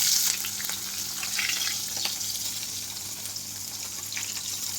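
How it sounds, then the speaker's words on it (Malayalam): Chopped shallots and garlic fry in a pan for sambar, giving a steady, moderately loud sizzle with faint crackles throughout and no voices. "ഇനി ഇതിലേക്ക് നമ്മൾ ഇടുന്നത് അരിഞ്ഞു വെച്ച കൊച്ചുള്ളിയും വെളുത്തുള്ളിയുമാണ്."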